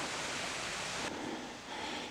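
Small waterfall beside a stone mountain trail near Baegunbong in Yangpyeong, a steady broadband rush of falling water that stays close and continuous throughout, with a slight drop in intensity partway through.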